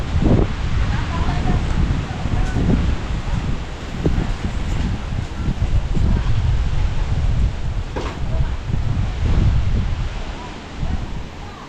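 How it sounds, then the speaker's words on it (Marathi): A fierce gale roars through trees during a heavy Konkan monsoon downpour near Chiplun, a loud continuous rushing with gusting surges, rustling foliage and wind buffeting the microphone throughout. "जबरदस्त वारा आहे, जबरदस्त."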